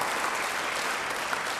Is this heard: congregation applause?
yes